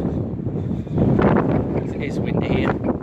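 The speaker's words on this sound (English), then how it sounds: "It is windy here." Strong wind buffets the microphone outdoors at a seaside bus running day in Morecambe, a continuous rumbling roar that swells midway, with someone talking over it throughout.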